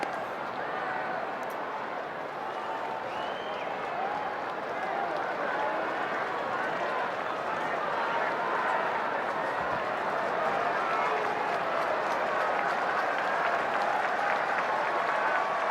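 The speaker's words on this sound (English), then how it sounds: "Dodger Stadium crowd trying to help Ohtani out." A Dodger Stadium baseball crowd cheers and applauds during a full-count at-bat, a dense, sustained roar of clapping and voices with a play-by-play announcer talking over it.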